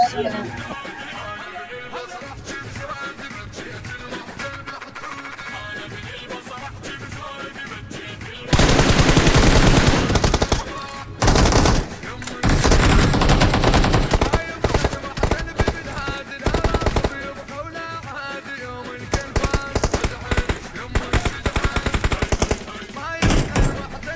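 PUBG Mobile gunfight with loud, sustained bursts of automatic rifle fire that come in rapid rattling volleys and stop between them, while players talk over the shooting.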